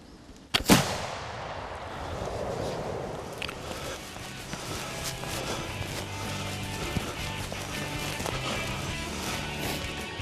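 A single sharp gunshot fired during a Pennsylvania turkey and coyote hunt, loud and close at the start, its report decaying into an outdoor woodland ambience that continues for several seconds afterward.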